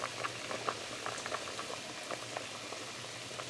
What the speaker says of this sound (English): It's been simmering away for 10 minutes.